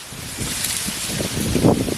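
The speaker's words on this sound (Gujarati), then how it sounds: "પવન બહુ છે" Strong wind gusts buffet the microphone outdoors at a village cooking spot, a steady rushing roar with low rumbling surges that swell near the end.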